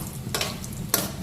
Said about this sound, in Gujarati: મરચું નાખી દીધું હવે હલાવી દેવાના ને